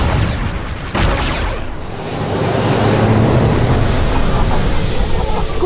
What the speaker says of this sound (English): More ground cannons than anticipated.